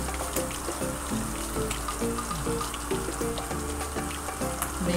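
Ginger garlic paste sizzling and frying in a pan for veg biryani, a steady close crackle with bubbling spatters and soft clinks throughout, no talking.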